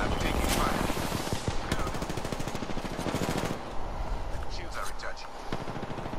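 Rapid automatic gunfire in an Apex Legends arena match, loud dense bursts with crackling shots, then scattered lighter reports as someone talks over the action.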